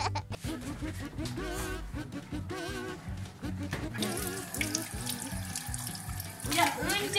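Tap water runs into a sink as dirty hands are washed, a steady splashing stream beneath children's voices talking, singing and laughing over it throughout.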